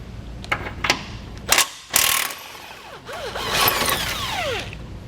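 A ratcheting tool works a 21 millimeter nut or bolt off a tow base plate bracket, giving a few short clicking bursts and a whirring, rising whine of a power driver close up.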